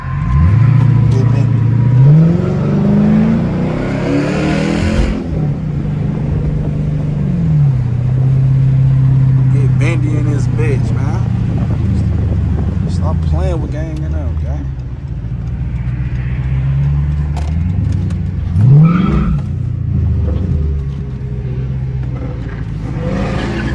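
Straight-piped Dodge Charger RT roaring through hard highway pulls, loud raspy exhaust climbing in pitch with several gear changes, heard from inside the car with voices talking over it.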